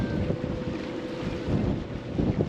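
A sailing boat heads down the Sandy Straits at about five knots under genoa and one engine, with steady wind buffeting the microphone, water washing along the hull and a low motor hum underneath.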